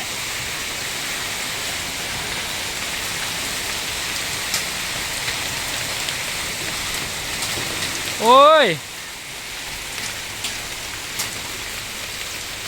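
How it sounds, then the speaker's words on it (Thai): Rain pouring at night, a steady dense hiss of falling water continuing throughout, with a brief vocal exclamation and faint background voices. "บรรยากาศที่ ฝนตกครับผมนะครับ กลางคืนนะ ช่วงดึกเลยครับ"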